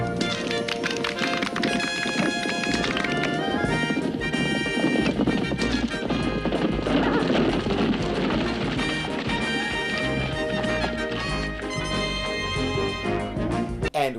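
Hooves clip-clop steadily with occasional horse whinnies from a Wonder Woman TV episode, set under a continuous dense music score that fills the whole stretch.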